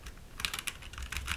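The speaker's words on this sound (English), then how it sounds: "These switches in this keyboard are Novelkeys Cream switches that have been lubed with PTFE powder" Quick typing on a POM Kayak keyboard fitted with Novelkeys Cream switches lubed with PTFE powder: a close, steady patter of soft, bright clacks in uneven bursts, with no voices.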